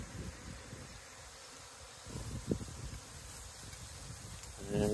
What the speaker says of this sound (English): watching this hive swarm.